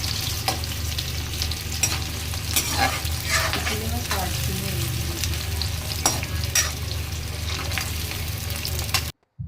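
Chopped onion frying in refined oil in a kadai, a steady sizzle with repeated scraping and clattering stirs, cut off abruptly near the end.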